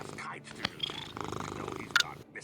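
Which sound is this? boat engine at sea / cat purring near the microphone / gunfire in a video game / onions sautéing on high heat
cat purring near the microphone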